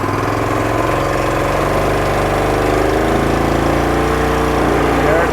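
A Rokon motorcycle engine runs hard with its back tire spinning, a loud, steady, throbbing drone that holds throughout and swells slightly toward the end.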